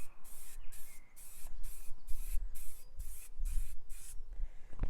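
A coat is sprayed onto a carbon fiber item in continuous passes, heard as a steady hissing spray that pulses on and off roughly every half second, close by with no speech.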